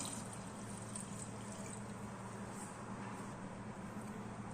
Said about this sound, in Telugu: తగినన్ని వాటర్ వేసేసుకుందాం